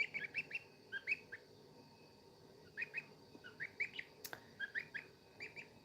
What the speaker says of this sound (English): What do you think of my goslings?